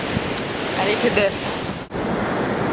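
Sea waves along the Greek coast make a steady broadband wash of surf mixed with wind buffeting, fairly loud and continuous, while a voice speaks briefly over it.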